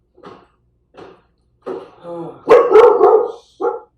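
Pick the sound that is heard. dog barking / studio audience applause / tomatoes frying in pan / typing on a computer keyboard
dog barking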